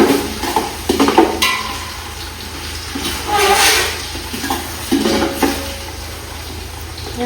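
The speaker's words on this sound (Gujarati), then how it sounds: "બટેટાને 2 મિનિટ તેલમાં સોળે ને એટલે સોળી જાય" Potatoes fry in oil in a village kitchen in Gujarat, making a close, uneven sizzle with bursts of hiss and stirring scrapes that rise and fall over several seconds.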